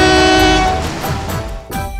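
A train horn sounds loudly with sustained harmonic tones as a train rolls past, the blast fading midway while the rumble of the passing cars continues to the end.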